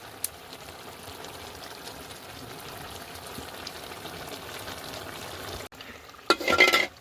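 Cumin and chili paste hitting hot oil in an okra curry, a sudden loud sizzle that bursts up after a quiet stretch of soft background kitchen noise.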